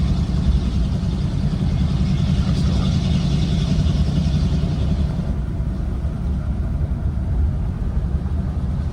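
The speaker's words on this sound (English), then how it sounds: "And Sam, even when we shift this into high gear, Oh, wow. we just have Great torque" A 1948 Ford Super Deluxe engine pulls in high gear with a steady, loud, low rumble that holds evenly throughout, with a faint road and wind hiss on top.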